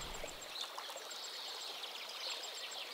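River current flows in a steady, soft rushing wash, with faint bird chirps heard now and then over the constant water.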